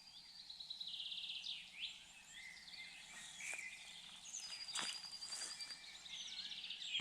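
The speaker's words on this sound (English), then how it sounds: "If I keep quiet for a second, you'll hear the birds." Morning birdsong in a forest along a hiking trail in Skåne, Sweden, in April: several faint, distant birds chirp and trill over a quiet background with a soft insect-like hum, no voices.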